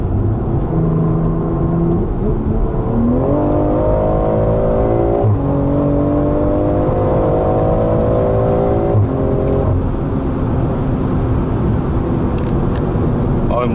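A BMW M340i pulls hard under acceleration, a loud, steady engine drone rising in pitch through the gears with a shift step partway, heard from inside the car with no talk.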